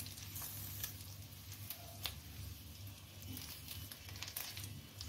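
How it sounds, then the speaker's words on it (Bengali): Fish roe fries in oil in a pan after being flipped to its second side, giving a faint, steady crackle with scattered soft pops close by. "আরেক পিঠও আমি ভালো করে ফ্রাই করে নেব।"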